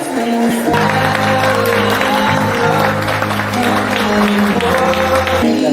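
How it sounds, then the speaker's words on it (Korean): Guests at a wedding ceremony applaud as the groom and his friend walk down the aisle. Clapping runs steadily through the clip under a loud musical backing with sustained low tones, and some cheering can be heard. "가객 여러분께서 신랑 친구의걸른 걸음에 축복의 박수를 계속해서 보내주시길 바랍니다."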